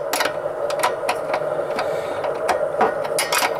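A nut being tightened onto an inverter cable terminal, fitted over a lock washer: a run of sharp, irregular metallic clicks and ticks, close and fairly clear, over a steady background hum.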